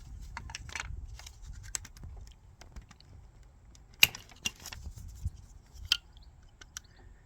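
A flathead screwdriver pries at a plastic coil pack connector on an Audi TT 2.0 TFSI engine, making faint scratchy rubbing and small tapping sounds, with one sharp click as the clip releases and a few lighter ticks after, close up and quiet.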